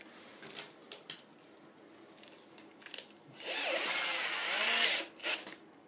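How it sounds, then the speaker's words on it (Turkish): Cordless drill boring a propeller hole in a wooden model airplane's balsa strip, with short handling taps followed by a loud, steady whirring burst of about a second and a half and brief trailing noises. "Bu çıtaya delik delerken matkapla mümkün mertebe seri delmeniz gerekir."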